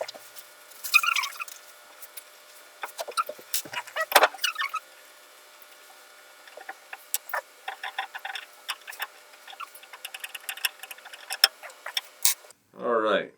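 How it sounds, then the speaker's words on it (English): Retention bolts are loosened and unscrewed from a Tikka Tac-A1 rifle chassis, making quiet metallic clicks, small ratcheting ticks and scattered taps, with someone speaking briefly at the start and a short voiced sound at the end. "we removed our 3 retention bolts"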